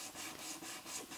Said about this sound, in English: keep my sanding tool even and flat against the cardstock